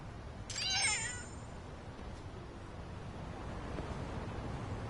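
A single short meow from a cat in a video game rings out near the start, fairly clear over a constant windy, surf-like background hiss that carries on afterward.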